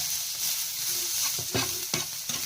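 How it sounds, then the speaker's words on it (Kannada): Oil is stirred into ingredients in a pan, with several sharp spoon-against-pan scrapes and taps over a continuous soft sizzle, close by and without speech. "ಈಗ ಎಣ್ಣೆ ಹಾಕಿ ಸ್ವಲ್ಪ ಮಿಕ್ಸ್ ಮಾಡಿ"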